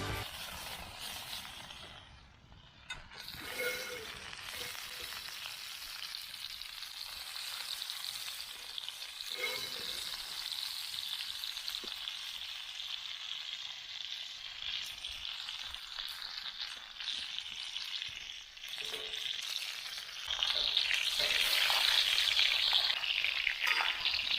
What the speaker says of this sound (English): let's throw a generous amount of butter into the pan and let's put the steak right on top